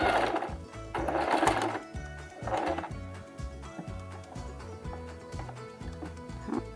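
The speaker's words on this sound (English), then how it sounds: "I'm gonna sew across. Sew back and forth." A home sewing machine runs in short bursts of rapid stitching, stopping and starting as it sews back and forth across fabric, fairly quiet with clacking mechanical rhythm and no talk.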